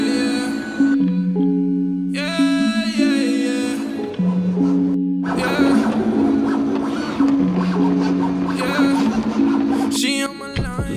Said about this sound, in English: I'm going to jump on the cutter and cut that bad boy out